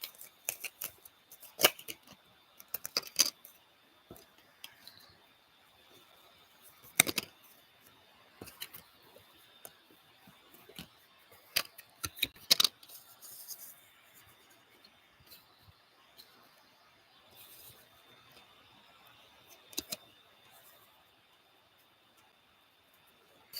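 Tarot cards are shuffled close by in scattered bursts of crisp slaps and riffles, separated by quiet pauses, with no talk.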